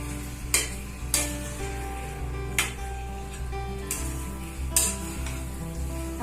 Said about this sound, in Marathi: आता आपण हे व्यवस्थित मिक्स करून दहा ते पंधरा मिनिटं त्याला शिजू देणार आहे